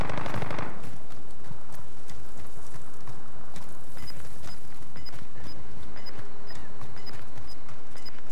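Rapid bursts of automatic gunfire and single shots in the Call of Duty: Modern Warfare video game, dense and continuous throughout amid game effects, with short repeated beeps partway through.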